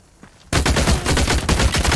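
Rifle fire in The Cycle: Frontier, a loud burst of rapid cracking shots that starts abruptly after a quiet opening and keeps hammering to the end.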